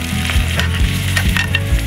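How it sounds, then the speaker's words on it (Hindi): Chopped green chillies fry loudly in a pan for egg khagina, a dense close sizzle with rhythmic stirring knocks about every half second. "5 से 6 हरी मिर्च मैंने चॉप की हुई है वो ऐड कर देते हैं और इनको हल्का सा फ्राई करते हैं।"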